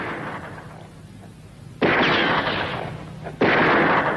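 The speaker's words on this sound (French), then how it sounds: "Ils ne sont que deux si on en croit les coups de feu." Two loud, sharp gunshots boom a couple of seconds apart, each followed by a long rolling echo, preceded by a quieter murmur.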